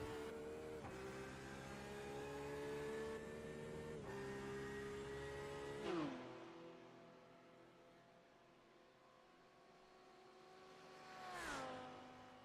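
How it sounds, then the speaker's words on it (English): A Porsche race car engine in the iRacing sim game holds a high steady drone, then its pitch drops and climbs again as it shifts gears and accelerates. "the Porsche sounds good, doesn't it, Winston?"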